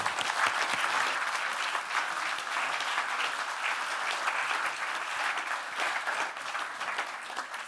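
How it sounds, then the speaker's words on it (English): Sustained audience applause at the opening ceremony of the DigHum2025 digital humanism event, a broad continuous wash of many hands clapping that stays fairly even and gradually eases slightly toward the end. "Big applause."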